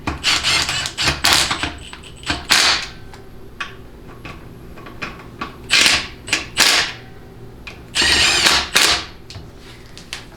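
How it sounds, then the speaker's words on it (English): An impact wrench tightens bolts on a Ford C6 transmission fixed yoke, sounding in several loud rattling hammering bursts separated by short pauses, close by. "I probably have about 15-ish foot-pounds of torque on the impact"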